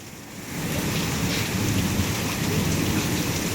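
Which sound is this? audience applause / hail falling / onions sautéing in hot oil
hail falling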